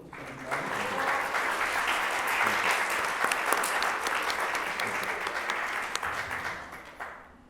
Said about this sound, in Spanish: También me gustaría pedir un aplauso para Daniel Bernabe Rodríguez y Juan Carlos Bernabe Beato